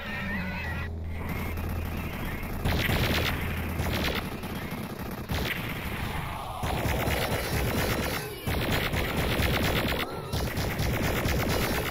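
Arachnotrons fighting a spider mastermind in DOOM 64, a dense, continuous barrage of rapid mechanical gunfire and crashing impacts, loud and unbroken throughout.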